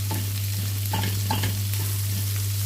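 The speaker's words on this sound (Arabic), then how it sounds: "نشوح البصل مع الفلفل الكوب" Onion and green bell pepper sauté together in a pan, giving a steady broadband sizzle with scraping stirs near the one-second and one-and-a-half-second marks, all under a constant low electrical hum.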